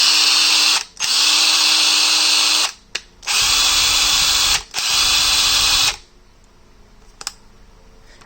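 A Hart 3/8 impact wrench's motor whirs loudly in several bursts of about two seconds each, separated by short pauses with brief clicks, before ending in near silence.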